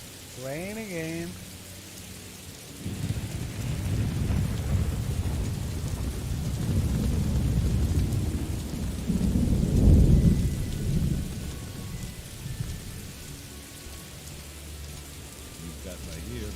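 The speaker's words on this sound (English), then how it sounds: "Rain again" Steady rain with rolling thunder in the video game Morrowind, a dense wash that swells and fades over several seconds, with a brief voice speaking at the very start.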